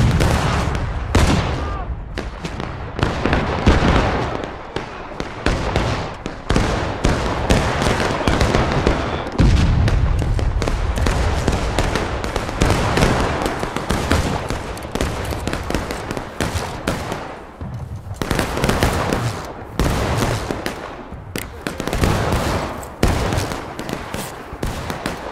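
Musket volleys ring out in the Civil War battle game War of Rights during a hill counterattack, with dense, overlapping crackling gunfire and loud booming bursts filling the whole stretch, repeated rolls of fire rising and falling.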